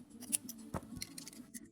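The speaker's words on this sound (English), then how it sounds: "Snip the thread with your scissors." Scissors snip a sewing thread at the end of a leather bucket bag seam, giving a few faint, quick, close-up clicks in a quiet room.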